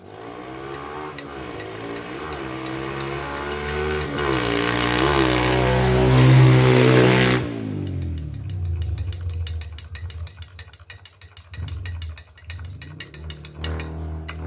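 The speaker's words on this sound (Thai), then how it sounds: "เสียงรถก็จะดังนิดนึงนะคะ" Cars pass on the road in front of a house: one vehicle's engine swells to a loud, close roar and then fades away, leaving quieter traffic rumble.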